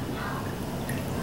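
Light soy sauce poured into a container makes a short, soft trickling and dripping, close and steady, lasting only a moment with no talking.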